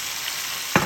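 Okra goes into a hot pan, where a steady background frying hiss suddenly bursts into a loud, close sizzle as the vegetables land.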